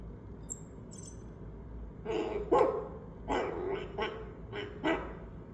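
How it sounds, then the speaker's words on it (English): A dog barks several times in short bursts, fairly close, over a low steady background hum, with faint high chirps early on and no talking. "Dog."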